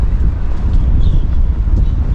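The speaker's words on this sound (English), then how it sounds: "It's a little bit windy" Wind buffets a microphone outdoors in Taipei on a breezy day, a constant low rumbling roar with slight gusting swells, close and dominant for a couple of seconds.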